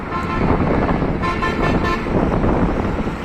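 Loud, constant road traffic in Bangladesh with engines rumbling and a car horn tooting through the din, busy and close.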